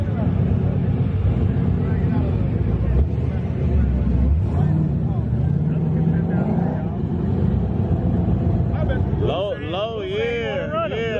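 Cars street racing in Chicago with big rims, a constant loud engine roar and rising revs that fill the whole stretch while people talk and shout over the noise.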